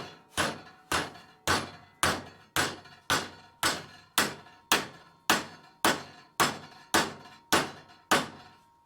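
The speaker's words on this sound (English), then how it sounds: "just get your dead blow hammer and whack it over" A dead blow hammer strikes 3mm steel held in a vise, about fourteen heavy, evenly spaced thuds, each with a short ringing decay, steady and loud with no talking.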